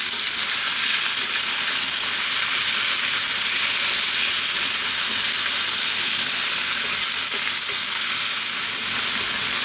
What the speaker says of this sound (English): We're going to cook this on, as you can hear, a fairly high heat for 4 minutes.